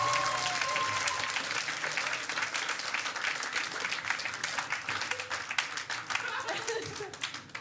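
Audience applause in a Call of Duty: Modern Warfare 2019 session, a dense wash of many hands clapping that stays loud throughout and thins slightly toward the end, with faint chatter beneath.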